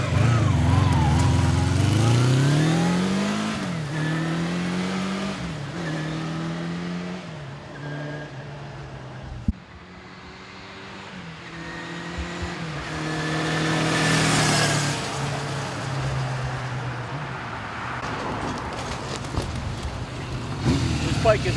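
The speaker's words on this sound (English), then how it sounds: "Listen to this thing. Engine sounds mint." A 1980 Kawasaki KZ550 LTD motorcycle with a 4-into-1 Kerker exhaust idles and revs up and down repeatedly, its engine pitch rising and falling nearby and loud.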